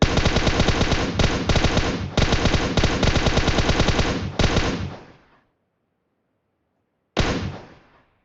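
Loud automatic gunfire in PUBG Mobile, several rapid bursts of rattling shots with brief gaps, then silence and one final short burst.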